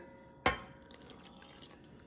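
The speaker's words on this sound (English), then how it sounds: "I'm going to add my cup of water." A cup of water goes into a bowl of cake batter with eggs, giving one brief splash followed by faint dripping and trickling in a quiet kitchen.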